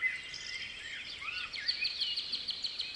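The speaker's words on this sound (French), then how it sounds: "Bruissement de chants d'oiseaux," Small birds chirping and singing in a garden, a continuous overlapping chorus of thin high twitters and short whistled phrases at moderate distance, alone without talk.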